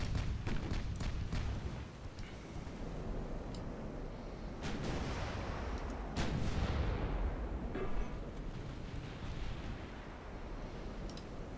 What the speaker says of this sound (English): main guns, continue on the battleship, please